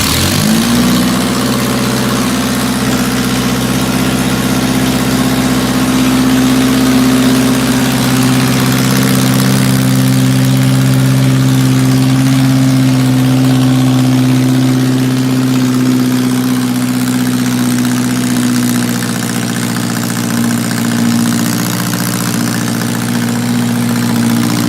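A 1.6L Mazda Miata engine swapped into a 1978 MG Midget idles steadily for about 25 seconds, a loud, close, even hum with a low drone and no talking.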